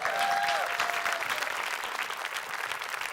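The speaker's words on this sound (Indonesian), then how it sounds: "Boleh tepuk tangan dulu dong" A stand-up comedy audience applauding, steady clapping from a crowd that fills the space for a few seconds, with a faint tone running briefly near the start.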